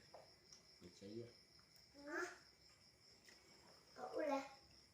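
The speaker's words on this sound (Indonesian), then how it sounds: "Kalau malam kayak gini selalu ada suara jangkrik teman-teman" Faint, high, continuous cricket chirping in the background at night while people talk quietly in bursts over it.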